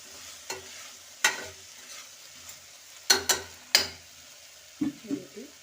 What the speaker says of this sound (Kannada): ಇದು ಎಣ್ಣೆಲೆಲ್ಲ ಫ್ರೈ ಮಾಡ್ಕೋಬೇಕು.